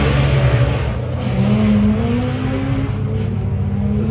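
Honda Civic on a drag racing run at Santa Pod, a loud, close, high-revving engine climbing in pitch through gear changes as the car accelerates hard down the strip, with no voices over it.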